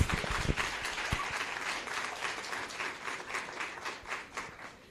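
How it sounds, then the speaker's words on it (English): Applause from a crowd, a steady wash of many hands clapping that gradually thins and fades toward the end. "Can we please give them a round of applause?"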